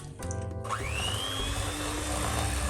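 Electric hand mixer whirring steadily as it beats eggs into sponge cake batter, a loud continuous motor drone with a rising whine, close up and with no talking.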